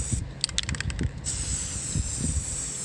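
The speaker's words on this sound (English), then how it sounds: "I'm just going to start spray painting this." Short rattly bursts give way to a steady, hissing spray from a spray paint can spraying onto water, continuing evenly to the end under low background rumble.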